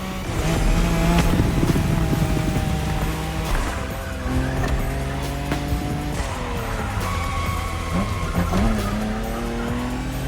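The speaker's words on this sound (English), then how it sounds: "When you manage to drift this bulky bodywork, it's just magic." Car drifting in The Crew Motorfest, a bulky-bodied car sliding with loud, continuous tire squeal over a steady engine drone, pitch shifting as it slides, no talk.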